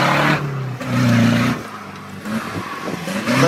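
A rally car's engine revs hard on a timed trial stage near Ponte da Barca, rising and falling in pitch as it climbs and drops, loud and close with a brief lull midway.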